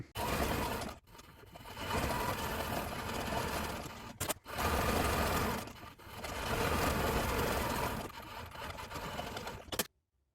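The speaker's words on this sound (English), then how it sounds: "I'm going to hop on over to the sewing machine and get that thing stitched up." Sewing machine stitches a leather wallet in several long, loud mechanical runs, each rattling burst separated by brief pauses before stopping at the end.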